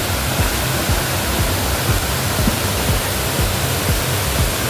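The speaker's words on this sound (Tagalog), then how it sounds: "yung pagsak ng tubig ay talaga naman nagbabubbles" Water pours steadily at Lambingan Falls in Barangay Kanuti, a continuous broadband roar of falling, bubbling water that stays loud and even throughout, close by with no voices.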